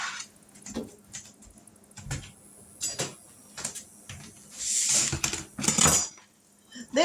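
Kitchen clatter as a knife and a cutting mat are grabbed to chop pecans for cookie bars, with scattered clinks, knocks and rustles close by and a louder shuffling clatter near the end.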